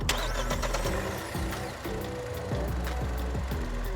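Proton X50 with a 1.5-litre turbocharged three-cylinder direct-injection engine, its engine turning over and running with a rising mechanical whir and a steady idle underneath, close and moderately loud, with no talk.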